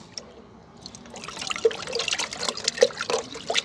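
Tamarind and plum pulp is dropped into water, giving small wet splashes and trickling that grow busier toward the end, with no voices.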